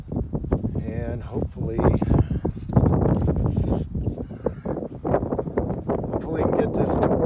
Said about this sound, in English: I have a weight on the tripod and it's still blowing over, so we have gusts of wind